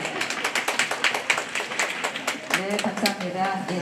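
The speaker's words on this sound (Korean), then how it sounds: "네, 박수." A crowd of attendees at a Gwangmyeong science high school launch event claps in quick, uneven bursts, and a voice starts speaking over the clapping partway through.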